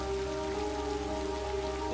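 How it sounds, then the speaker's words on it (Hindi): Heavy rain pours down in a film scene, a steady, dense wash of hiss that holds evenly for the full two seconds with faint tonal lines beneath and no voices. "बारिश बहुत तेज हो रही है।"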